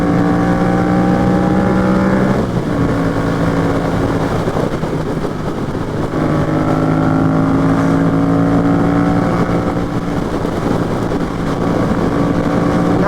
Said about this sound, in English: we're going right into the wind, too.